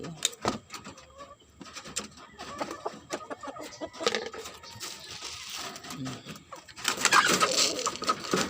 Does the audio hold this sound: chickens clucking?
yes